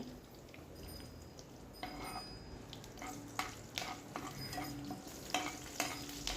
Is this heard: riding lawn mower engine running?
no